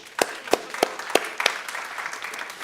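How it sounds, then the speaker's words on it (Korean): Youth congregation at a high school Sunday worship service giving a brief round of applause, starting with five sharp separate claps that spread into lighter scattered clapping, moderately near. "우리 박수 한번 칠까요?"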